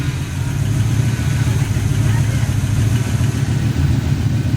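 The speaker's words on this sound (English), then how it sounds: "Is it idling by itself?" A boosted six-cylinder engine idles on its own after long storage, giving a steady, close, continuous low rumble that holds an even note throughout.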